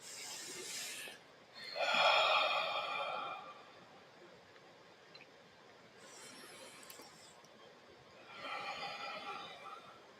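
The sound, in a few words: people taking deep breaths together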